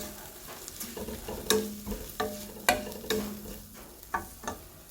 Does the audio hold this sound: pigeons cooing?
no